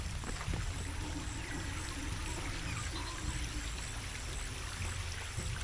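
Steady flowing water rushes and pours continuously in Shadow of the Tomb Raider, a water stream driving a bridge mechanism, heard alone at a constant close level throughout.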